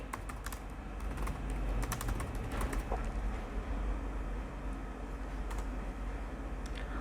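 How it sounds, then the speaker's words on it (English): Typing a search query on a computer keyboard: quick, light key clicks in irregular bursts, faint and close, over a low steady room hum, with no talk. "So let's type the same thing again"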